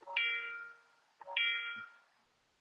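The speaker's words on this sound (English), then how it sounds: "Oh boy, we got a phones a ringing." A phone ringing with two bright electronic tone bursts about a second apart, each fading slowly, fairly faint and alone in a quiet room.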